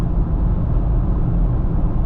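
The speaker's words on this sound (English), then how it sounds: "That humming sound you're hearing, I believe, is my transmission going out." A steady low hum and rumble from inside a moving car with a failing transmission, continuous and even throughout with no talking.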